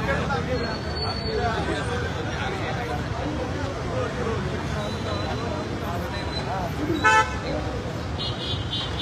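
Street traffic in Deccan, Pune during a crowded live rally, with a dense hum of engines and crowd babble and a single short car horn toot sounding near the end.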